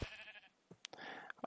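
Sheep on a modded Minecraft golem cotton farm, giving a couple of short, nasal bleats amid light clicks and footsteps, faint and close with no talking.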